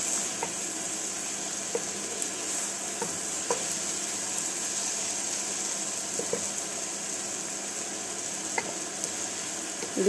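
Dry shrimp hits softened tomato in a pan, setting off a steady, close sizzle with occasional light stirring scrapes and clicks, and no talking.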